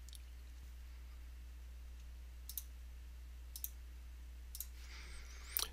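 Mouse clicks while selecting options in RFID reader configuration software, a few faint single clicks spaced about a second apart over a low steady hum, with a slightly louder click at the end.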